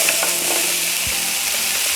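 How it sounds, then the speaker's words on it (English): Garlic, carrots, kabocha squash and onions sauté in a pot with a steady, loud, close sizzle and crackle, broken only by a soft stir or two, with no talk. "Gonna let all these ingredients just saute just a little bit"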